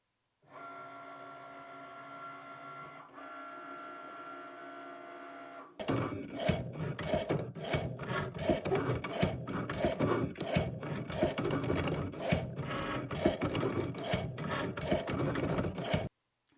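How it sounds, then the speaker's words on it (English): A Cricut Maker engraving a keychain on a loaded mat: first a steady tonal motor whine with a brief dip, then a loud, dense scratching buzz of the engraving tip, pulsing with rapid strokes for about ten seconds, close and alone. "And then we are going to load our mat and let the machine engrave."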